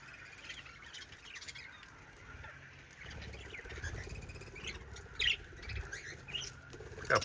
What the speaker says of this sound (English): All the happy little budgies and cockatiels.